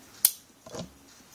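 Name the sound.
scissors cutting string for a kandi bead project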